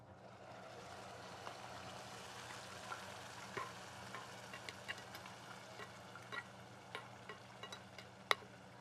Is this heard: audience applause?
no